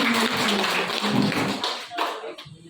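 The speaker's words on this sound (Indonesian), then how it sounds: "Kita beri aplaus dulu." An audience applauds at a gathering with dense, steady clapping for about two seconds before it thins out and stops.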